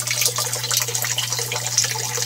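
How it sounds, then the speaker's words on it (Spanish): A bell siphon valve drains water from an aquaponics gravel bed, a steady close gush and trickle of flowing water with a constant low hum beneath. "Aquí estamos viendo cómo la empieza a drenar la válvula Bell."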